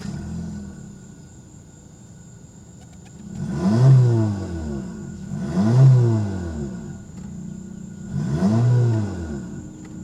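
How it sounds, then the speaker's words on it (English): A 2023 Honda HR-V EX-L SUV engine revs three times in succession, each rise swelling and falling back to idle, close by with a clear exhaust note. "Let's give it some gas so we can hear that exhaust note."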